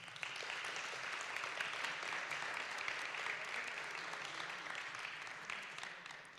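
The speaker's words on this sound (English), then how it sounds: "Let's give the candidates a warm round of applause." A school board candidate forum audience gives a steady round of applause, many hands clapping evenly at moderate distance in a meeting room, fading a little toward the end.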